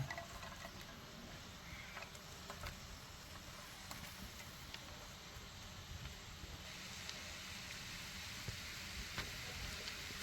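Chopped large onion fries in a small amount of oil in a pan for a quail egg roast, a faint, steady sizzle and crackle close by, with a few light stirring taps.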